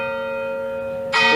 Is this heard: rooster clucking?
no